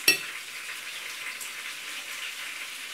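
Chicken meatballs fry in a pan, a steady bright sizzle with a sharp crackle at the start, close and continuous with no talk.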